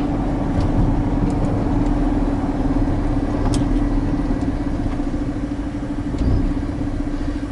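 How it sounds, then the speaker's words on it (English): Continuous low rumble of road traffic with cars idling nearby in Britain, a steady engine drone with a constant hum and occasional faint higher noises, fairly loud and with no talk. "And I doubt they'll get stuck in all this traffic either."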